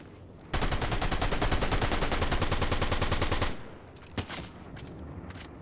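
Rapid automatic gunfire in a Fortnite duos match, a dense sustained burst of shots lasting about three seconds, then a few sharp isolated shots and quieter game noise afterward.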